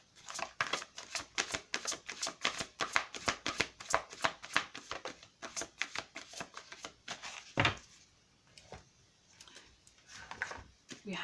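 Tarot cards being shuffled and handled for a psychic pick-a-card reading: a quick run of crisp riffling clicks for about seven seconds, then a few separate card snaps and slides, with faint speech in the background.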